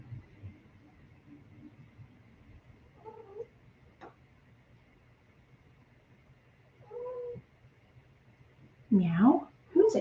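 A cat meows a few times in a quiet indoor room during a live acrylic painting session, the calls short and fairly close, the louder pair near the end, with soft talk and brush handling faintly underneath.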